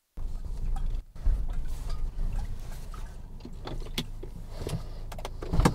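Electric power window on a car sliding along its track, a steady motor whir that runs almost the whole time with a short break near the start, fairly close inside the cabin.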